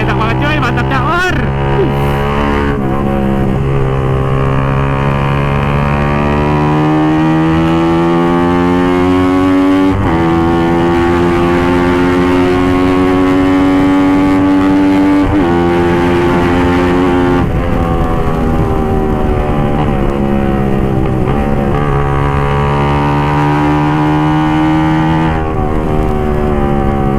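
A Suzuki GSX-R 150 motorcycle with a modified exhaust rides along on an empty city street, its engine droning loud and steady through several gear changes, while a rider's voice is heard over it.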